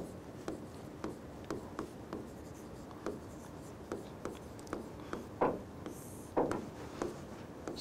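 A pen writes by hand on paper during an answer-writing lesson, with soft scratching strokes and regular small taps as words are formed, quiet and close with no talking.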